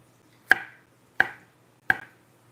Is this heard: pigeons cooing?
no